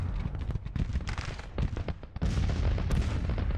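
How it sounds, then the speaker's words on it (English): Artillery fire in the Grand Tactician video game, a Civil War strategy battle: a rapid, overlapping barrage of muffled booms and cracks, dense and continuous, with heavier rumbling after the midpoint and no talk. "We've got artillery supporting from the rear."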